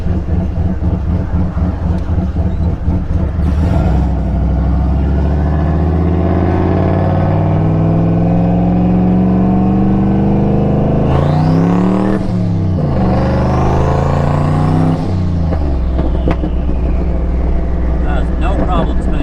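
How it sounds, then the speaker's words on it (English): A turbocharged LS-swapped Pontiac GTO roars loudly as the engine revs up and holds high, the pitch climbing and then falling back twice while the tires spin, all close and overpowering. "No problem spinning the tires at all."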